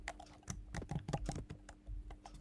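Rapid, uneven keystrokes on a laptop keyboard, a close stream of light clicks and taps in quick bursts with brief pauses, fairly quiet and with no talking over them.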